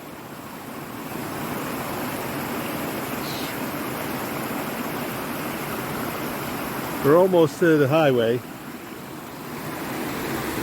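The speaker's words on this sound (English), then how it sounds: "This is a pretty waterfall." A waterfall along the Appalachian Trail gives off a steady, full rushing roar that holds at an even level throughout, with someone speaking briefly near the end over the constant water noise.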